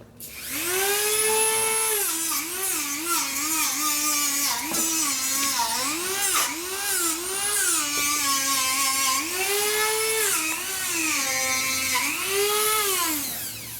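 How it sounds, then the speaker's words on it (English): A high-pitched Dremel rotary tool whines steadily, its pitch rising and dipping as it sands a metal fork on a Harley Sportster, loud and close for the whole stretch. "Just gotta hit the Dremel on it once."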